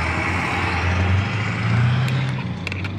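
A noisy car passes on a street in Tucson, a steady roadway rumble with a low engine drone that swells and fades over a few seconds, plus faint higher clicks near the end.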